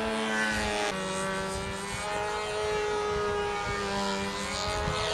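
A model airplane flies at a national competition, its engine a steady, strong high whine with a sustained pitch that shifts slightly as the aircraft moves, heard fairly close throughout without talk.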